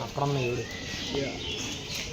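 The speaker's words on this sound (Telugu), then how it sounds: "ఫ్యాంటైల్ ఫ్యాంటైలో పావురం అండి" A fantail pigeon gives a low, soft coo close by, brief and rounded, followed by quieter background sounds and a faint voice.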